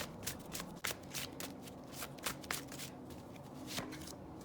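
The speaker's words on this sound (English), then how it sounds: "let me see if I can draw another card for group number 3." Deck of cards being shuffled and a card drawn, with quick riffling bursts and soft slaps close to the microphone, quiet and alone.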